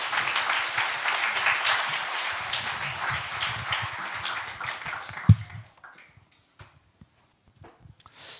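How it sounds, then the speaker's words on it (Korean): A church congregation applauds to welcome a pastor to the pulpit, a full, steady wash of clapping for about five seconds that ends with a thump and gives way to quiet shuffling. "우리 박수로 환영하실까요?"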